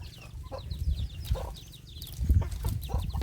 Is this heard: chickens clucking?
yes